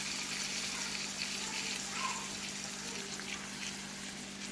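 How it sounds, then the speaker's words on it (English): Tap water pours steadily into a cooking pot for a chicken gnocchi soup, a continuous close gushing rush with a low steady hum beneath and no talking. "We're going to put in some water in just a second and then cover it."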